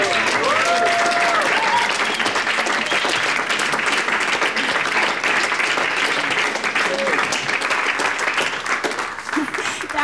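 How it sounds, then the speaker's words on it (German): Concert audience applauding steadily after a pop song, a dense, loud wash of clapping with some crowd noise filling the whole stretch and faint voices underneath. "Dankeschön, danke, danke für den Applaus."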